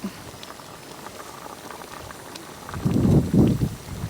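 Hot water draining off freshly steamed cabbage outdoors by a lake, a soft background hiss that breaks into two loud, close bursts of pouring and splashing liquid near the end.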